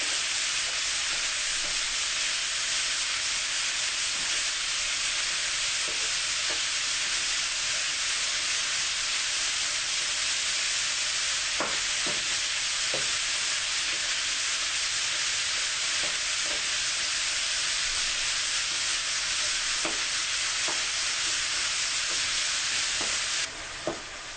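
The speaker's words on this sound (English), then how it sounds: "we're just going to break this up with a wooden spoon" Ground meat sizzling steadily in a pan for spaghetti meat sauce while a wooden spoon breaks it up, giving a constant bright hiss with occasional soft scraping clicks, no voices.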